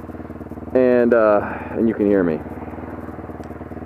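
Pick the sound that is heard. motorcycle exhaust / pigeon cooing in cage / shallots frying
motorcycle exhaust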